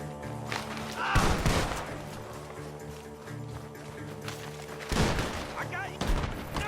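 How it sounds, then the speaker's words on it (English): Gunfire from a barn in Red Dead Redemption 2, two loud sharp bursts of shots amid ambient game sound and music, with a voice talking in between. "The gunshots are coming from that barn."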